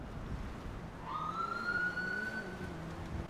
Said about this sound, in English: Are those sirens?